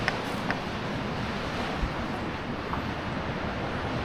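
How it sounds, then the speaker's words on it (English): Strong wind gusting around a cabin among pines during a tornado warning, a steady dense roar buffeting the microphone with no let-up. "I think the wind just died a little, I hope."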